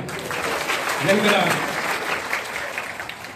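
Clapping from a crowd at a large tribal community gathering, a broad steady patter of many hands that holds for a few seconds and then starts to taper.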